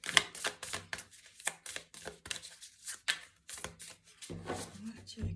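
Tarot cards are shuffled and drawn by hand in a run of crisp, close flutters and slaps that come in quick bursts with short pauses, quiet overall, with a soft voice underneath.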